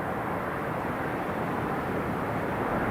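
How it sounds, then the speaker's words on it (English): A Ryanair airliner from Malta on approach to Newcastle International Airport produces a constant, broad, distant jet rumble that stays even and unbroken throughout. "Ryanair coming in from Malta. That's just on the approach now."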